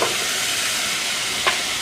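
Vegetables fry with turmeric in a pan, giving a steady close hiss of sizzling oil throughout, with one brief crackle near the end.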